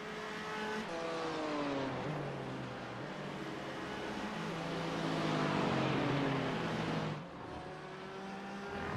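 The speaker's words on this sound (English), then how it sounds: "It's that long straightaway where this AMG Mercedes really takes off." An AMG Mercedes race car in a sim racing game accelerates down a long straight at Oschersleben, its engine note climbing steadily through the gears with clear rising harmonics. It holds a sustained, fairly close roar before easing off near the end.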